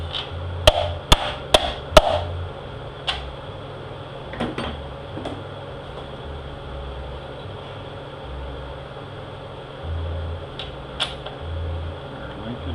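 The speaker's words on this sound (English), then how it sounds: "Here's the seal installer. Just drive it in until it stops." A transmission seal on a 6L80E automatic being driven into its bore with a seal installer tool: a quick series of sharp metallic hammer blows early on, then a few scattered taps over a low shop hum.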